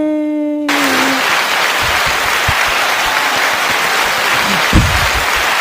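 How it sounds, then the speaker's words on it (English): After a brief tonal beep, a canned applause sound effect played on a podcast swells into steady, loud crowd clapping, with faint voices and thumps underneath. "We need that clap sound."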